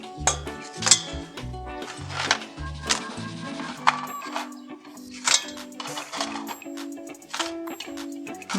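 A spoon stirs milk, butter, chocolate and biscuits in a metal pot, giving irregular close clinks and ringing taps against the pot's sides with scraping in between, steady throughout.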